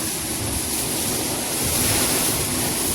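Sea water surges in beside the Kankeshwari Mataji shrine near the INS Khukri Memorial in Diu, a loud, steady, close roar of surf with wind buffeting the microphone throughout.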